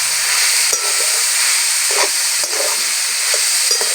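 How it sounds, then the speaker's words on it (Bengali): Ground turmeric, chili and cumin sauté with chicken in a pan, giving a loud, constant close sizzle with occasional soft stirring scrapes and no speech. "ভালো করে কষিয়ে নেব।"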